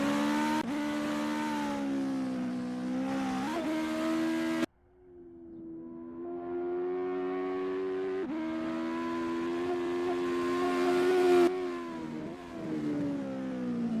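US Legend Cars racing at Virginia International Raceway Grand West, a single close engine droning and rising through the gears with shifts, dropping back briefly before climbing again under sustained load.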